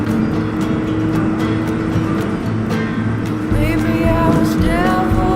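A 2006 Honda 599 Hornet motorcycle engine revs steadily under wind roar, then climbs in pitch as it accelerates hard through the gears near the end, loud and close throughout.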